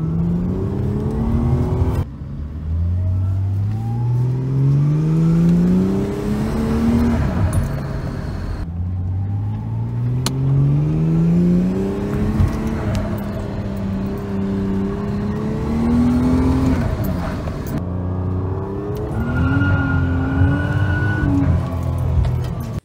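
A car with a Barra turbo engine conversion accelerates repeatedly, its engine and exhaust note sweeping upward through several gear changes, loud and continuous with brief lifts between pulls.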